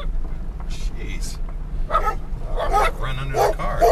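A dog barks a few times at moderate distance amid outdoor background noise, the yips short and sharp.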